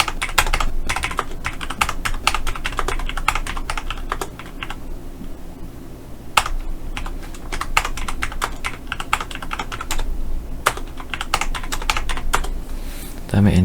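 A computer keyboard is typed on quickly during an Excel spreadsheet exercise, with dense, close clicks in rapid bursts and a few louder key strikes, while a voice speaks quietly in places.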